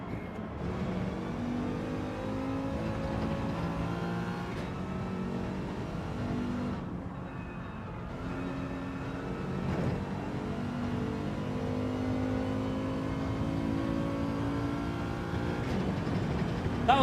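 A Mercedes race car in Gran Turismo 7 holds a steady, close engine drone through gear changes, revving and easing off around corners, with a brief lift before the pitch climbs again under acceleration.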